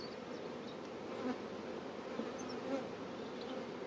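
Honeybees buzz steadily in an opened beehive, a dense, continuous hum close up, with the colony crowded after a heavy rapeseed nectar flow and bees gathered in the feeder.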